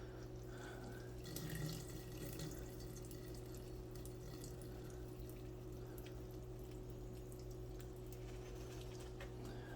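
Excess soaking water drains from a container holding an egg, a faint, steady trickle and pour of water running continuously with a brief slightly louder splash near the start.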